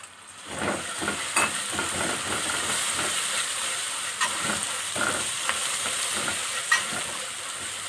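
Butter melting in a pan over low heat for caramel sauce, a soft continuous sizzle broken by repeated scraping strokes of a spoon and occasional light clicks.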